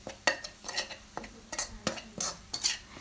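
Southern Thai curry paste stir-fry with a little water added is stirred briskly in a pan, producing a run of quick scraping strokes and utensil clinks over a light sizzle, with no speech.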